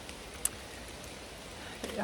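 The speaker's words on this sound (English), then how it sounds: "it's not raining super heavily, but it was raining very consistently" Steady rain falls through the rainforest of Dorrigo National Park, a constant soft hiss with a few louder drips, while someone speaks briefly at the end.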